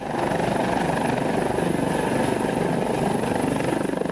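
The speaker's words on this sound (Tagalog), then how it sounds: "Isa pang senaryo ang touch and go o pagsasanay sa kakayanang bakalapag ang isang helicopter sa barko." An Airbus H160 helicopter lands on a naval ship deck during a maritime exercise, its rotor thumping steadily in a loud, continuous, close roar with no other sounds.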